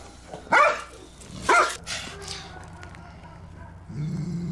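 A scared Belgian Malinois barks twice, about a second apart. The barks are sharp and fairly close over a quiet background, followed by a low steady hum.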